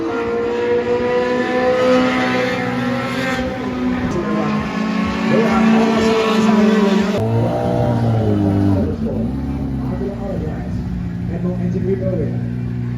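Race car engine at an NDRC drag racing event in Ibahan, Batangas, droning and revving loudly and steadily throughout, with talk over it.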